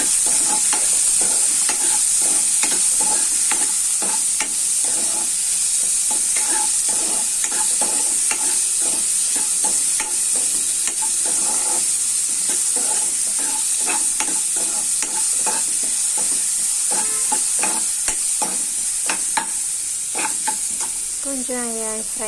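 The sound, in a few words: frying in oil while stirring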